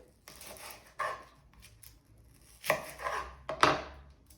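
A knife chops through a shallot on a cutting board, a few separate sharp cuts in an irregular rhythm, close and fairly quiet with short pauses between strokes.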